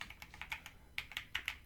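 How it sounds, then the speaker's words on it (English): Quick bursts of computer keyboard keystrokes, close and crisp, coming in short irregular runs with a brief pause midway, no talking. "you can just kind of type in what you need to do"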